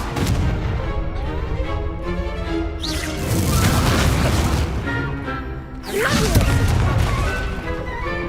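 In the video game Hogwarts Legacy, a Confringo fire-blast spell bursts with heavy booming impacts and crashing explosions, loud and close, rolling over ongoing combat noise with two larger blasts standing out.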